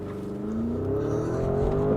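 A Porsche pulling away hard from a brake launch, engine note climbing steadily and loudly as it accelerates, close and alone without talk.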